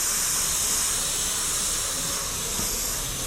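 An airbrush sprays paint in a steady, close hiss that runs unbroken throughout, freehanding loose lines around a radio in a 90s graffiti-style design.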